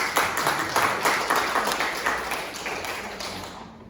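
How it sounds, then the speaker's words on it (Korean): A church congregation applauds together, a steady patter of many hands clapping at moderate distance that slowly fades over a few seconds. "우리 박수 한번 할까요?"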